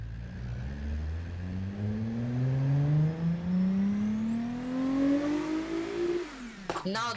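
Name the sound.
450 horsepower hatchback engine revving in video game BeamNG.drive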